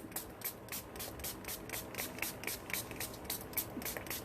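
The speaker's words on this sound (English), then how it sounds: "this one has a lot bigger spray" Quiet, rhythmic hissing bursts repeat about every quarter second, a spray bottle of homemade shimmer mist being pumped steadily, faint and close.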